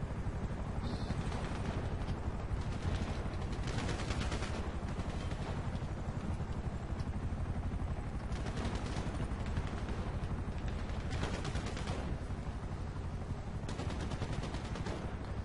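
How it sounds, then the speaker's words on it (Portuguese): Dense, continuous rapid gunfire from a helicopter in a multiplayer video game, a steady loud clatter with heavier bursts throughout. "levei tiro do helicóptero"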